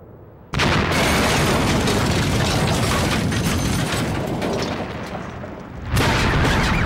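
A video-game explosion from BMX XXX bursts in suddenly and loud, a sustained roaring blast that rumbles for several seconds, dips slightly, then swells again near the end, with no talking.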